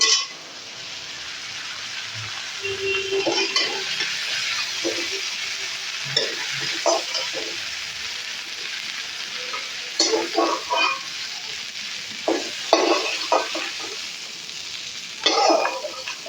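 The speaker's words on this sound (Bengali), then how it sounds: "মাছগুলো কিন্তু আমার ভাজা হয়ে গেছে দেখুন এখন আমি মাছগুলোকে নামিয়ে নেব" Fish frying in oil in a pan while being stirred, a continuous close sizzle broken by repeated scraping and knocking of a utensil at irregular moments.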